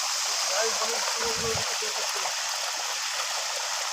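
Water from a tanker pours onto a drying paddy field in Hattalli village, Mysuru district, a steady, even rushing flow with a brief muffled voice early on.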